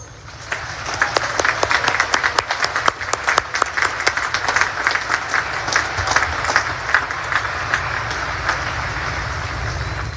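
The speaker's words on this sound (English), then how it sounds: "please join me in giving them a heartfelt round of applause" A large audience applauds at a Naval Academy graduation and commissioning ceremony, dense steady clapping that swells quickly and holds for about ten seconds across a wide space, with no one talking over it.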